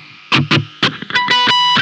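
Electric guitar chords through a distortion pedal, struck in a choppy rhythm, about seven loud bursts with a gritty, saturated tone and some sustained notes ringing.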